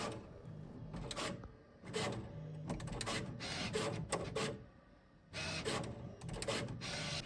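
Bambu Lab H2C 3D printer moving and working, a steady mechanical whir broken by repeated bursts of rapid motor buzzing and clattering motion, close and fairly loud with short quieter pauses between moves.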